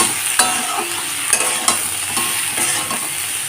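Potatoes and beans are sautéed with salt, sugar, turmeric, chilli and cumin powder in a pan, giving a close steady sizzle punctuated by a few sharp spoon knocks against the pan, with nobody talking.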